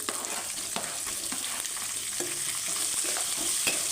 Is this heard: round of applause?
no